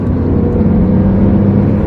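A car engine during break-in, heard from inside as it accelerates again under load, a loud, steady low drone with a gradually shifting pitch and no speech.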